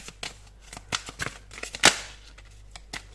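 Tarot cards are shuffled and handled up close in a string of quick, crisp riffling flicks and snaps, with one louder slap near the middle and no talking.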